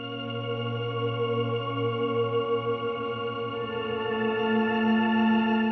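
A droning, eerie guitar texture of long sustained tones with slowly shifting harmonics, steady and unbroken throughout.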